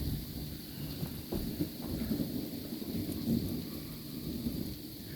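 A February thunderstorm brings low rolling thunder over a steady wash of rain, fairly faint and distant, with no voices.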